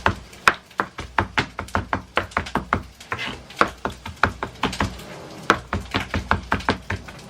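Knife chopping bread on a cutting board steadied by a cloth underneath, a rapid run of close, crisp knocks in a steady rhythm with no talking.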